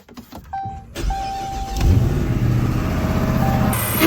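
A Dodge Charger build starts up and runs. A brief mechanical whir is followed by an engine that settles into a steady, fairly loud rumbling idle nearby.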